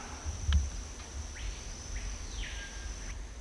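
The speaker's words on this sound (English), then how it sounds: "There's kind of a noisy bird in there." Faint, thin chirping calls from a bird in dense jungle come in a short series of rising and falling notes over a quiet background hiss.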